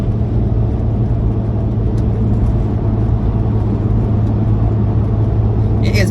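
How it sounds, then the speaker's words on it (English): Audi B5 S4 cruising in 6th gear at 60 mph, a steady, loud engine and road drone with a constant low hum filling the cabin, unchanging throughout. "So we're in 6th gear now, 60 miles an hour."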